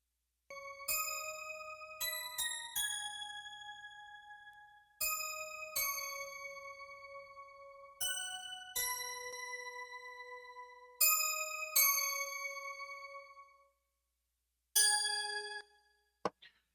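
Bell tones in a worship music mix ring out in bright, clean struck notes with long sustaining decays, coming in repeated phrases separated by brief silences.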